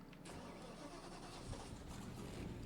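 A 1977 Monte Carlo engine in the video game Spintires turns over and settles into a steady, quiet running rumble, faint and continuous.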